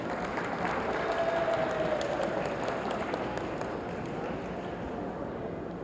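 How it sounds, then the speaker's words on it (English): An audience at a 1987 City of Torrance 75th anniversary celebration applauds an honoree with steady, sustained clapping from a sizable crowd, filling the room evenly throughout. "If she'd stand so we can applaud her, Beatrice Moore."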